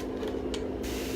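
Spray paint hissing onto a canvas, a steady close aerosol hiss lasting just over a second, with no talking.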